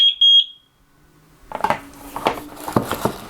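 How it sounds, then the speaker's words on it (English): A brief high electronic beep from a Eufy Dual Camera Doorbell pairing sounds a few times at the start, followed by close clattering and handling noise. "Press the sync button until you hear the beep."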